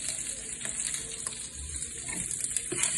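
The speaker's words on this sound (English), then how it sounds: "We're gonna take the asparagus and we're gonna add it to our skillet" Asparagus sizzles steadily in a hot skillet, a dense close crackle of frying that keeps on without a break, with faint stirring and no voices.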